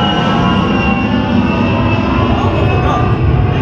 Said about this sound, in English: There's an airplane! There's a sound there. It's a lot of noise.